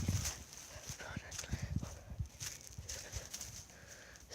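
A horse walks in a pen with a scattering of quiet hoof clops and shuffles, faint and uneven, while a person talks nearby.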